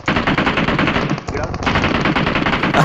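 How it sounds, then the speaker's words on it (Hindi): Rapid automatic gunfire from a BGMI battle, dense continuous bursts of shots close and loud, with a brief gap midway before the firing resumes. "अब किसी ने पीछे से फायरिंग कर दी"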